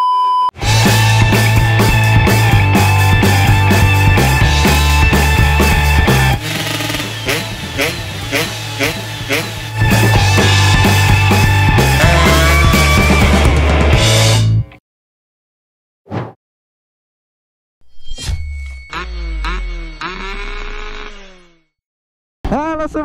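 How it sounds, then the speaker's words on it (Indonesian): A Kawasaki Ninja 150R with an NXL Racing Cobra aftermarket exhaust revs hard and steadily for several seconds, then cuts out, followed by a few short throttle blips. "langsung aja kita denger nih suara dari knalpot NXL"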